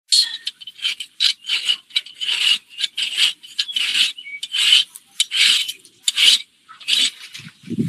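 Hand rasp filing a horse's hoof, a series of quick rhythmic scraping strokes, close and crisp, in short bursts with brief pauses between.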